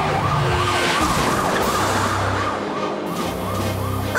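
Wailing ambulance siren in an animated cartoon (Code Lyoko) rising and falling in repeated sweeps, loud and close, over a rumbling vehicle engine.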